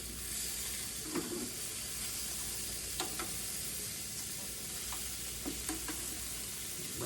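Bacon-wrapped venison sizzles steadily on a BBQ grill, a continuous close crackling hiss with a few soft pops and scrapes as pieces are moved around.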